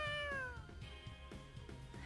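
Cat meowing in the video game Tales of Xillia 2: a clear, close drawn-out meow opens the clip, followed by rhythmic soft game-sound pulses.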